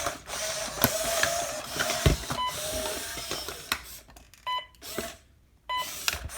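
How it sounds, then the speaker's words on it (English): A prototype I-Cybie robot dog gives short electronic beeps amid whirring, clicking servo mechanisms, close and fairly quiet, with gaps of near silence between bursts. "He beeps when he hears the commands"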